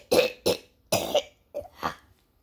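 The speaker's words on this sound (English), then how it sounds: "Let me clear my throat." A person clears their throat in five short, forceful bursts with brief silences between them, close to the listener.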